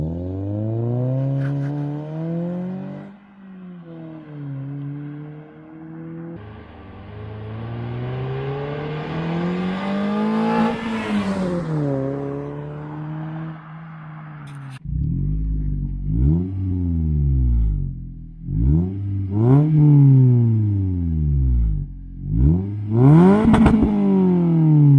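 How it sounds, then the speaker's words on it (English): A Toyota Corolla with a Borla cat-back exhaust revs repeatedly, deep throaty bursts rising and falling in pitch, with sharp blips and a rumbling idle between them. "this Borla cat-back exhaust would definitely be one of the first mods I would want to do"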